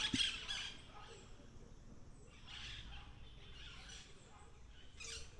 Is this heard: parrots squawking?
yes